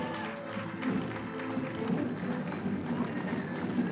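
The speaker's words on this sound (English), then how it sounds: "Let's hear a big round of applause for Mansi." Audience at an award ceremony applauding steadily throughout, a dense, moderately loud wash of clapping from a mid-sized crowd.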